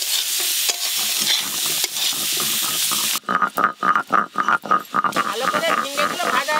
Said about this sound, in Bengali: ভালো করে ঝিঙ্গেগুলো ভাজা হয়ে গেছে